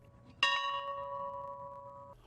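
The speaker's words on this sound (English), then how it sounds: "The old farm bell ringing 39 times to honor his place in history" A single strike of the old farm bell at Jimmy Carter's family farm at the National Historical Park, a clear metallic clang that rings on with a steady sustained tone for almost two seconds before it is cut off.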